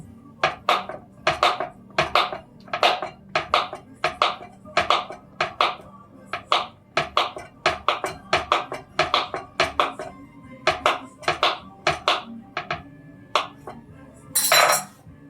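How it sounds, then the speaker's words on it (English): A whisk clinks rapidly against a bowl while blending salt and flour for a from-scratch pie crust dough, giving steady, evenly spaced metallic taps that run throughout and end in a brief louder scrape. "you could use a whisk to combine the salt and the flour"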